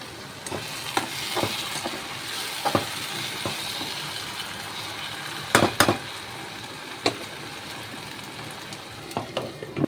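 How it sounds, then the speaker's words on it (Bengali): Onions and tomatoes fry in a pan, giving a steady soft sizzle with scattered clinks and scrapes of a utensil stirring against the metal, fairly quiet and without voices. "ভাজা ভাজা হয়ে গেছে পেঁয়াজ টমেটো।"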